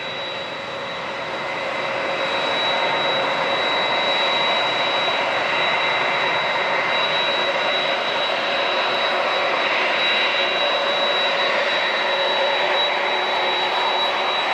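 A Delta airliner jet in SkyTeam livery roars steadily at San Diego International Airport, a loud sustained engine rumble with a high whine that swells over the first seconds and holds without any talk.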